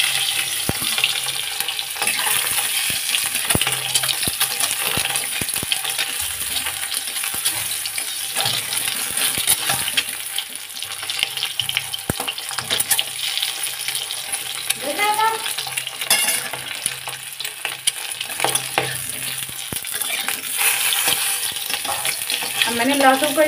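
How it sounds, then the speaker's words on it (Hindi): Garlic fries in a pan for an egg and potato curry, giving a continuous close sizzle broken by stirring scrapes and clinks, with a tap running at times. "मैंने लहसुन को इसलिए इसमें फ्राई कर रही हूँ, ताकि लहसुन भी बहुत अच्छा लगता है फ्राई कर देने पर"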